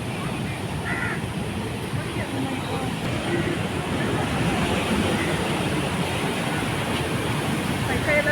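Big waves crashing at Kapu beach in the rainy season amid strong wind, a continuous loud roar of surf with faint crow calls.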